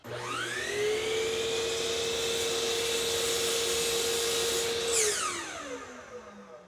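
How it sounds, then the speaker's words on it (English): A miter saw in a simple jig spins up with a rising whine, holds a steady high-pitched tone while cutting through a wooden bar clamp with an aluminum end, then winds down. "I've set up a simple jig on my miter saw, and I'm going to make that cut"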